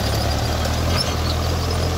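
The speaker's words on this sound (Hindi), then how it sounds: "ये चल रहा है दोस्तों ट्रैक्टर बक्कर के ऊपर" A Mahindra Arjun Novo 605 DI four-cylinder tractor runs while pulling a bakhar tillage implement in a field, giving a steady low mechanical drone at constant loudness with no voices.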